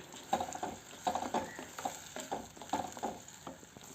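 Vinegar with garlic for a garlic pickle bubbles in a pan, giving quiet, rapid crackling pops in irregular bursts that continue throughout.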